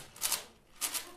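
A Cyclone Boys G6 speed cube being turned and corner cutting, two quick bursts of bright plastic clicking and rattling close up, separated by a brief lull, with no talking.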